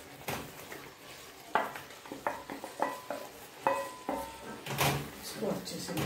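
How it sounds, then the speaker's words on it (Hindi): Raw banana pieces go into cooked masala in a pan and are stirred, making irregular clacks, scrapes and a soft sizzle close by, mixed with a person's voice talking. "अब हम इसमें डालते हैं जो हमने तैयार की थी केला,"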